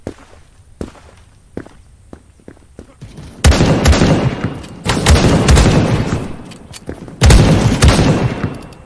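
Gunshots from the first-person shooter Krunker: light ticks and taps, then heavy booming shot bursts close and loud, recurring in three clusters.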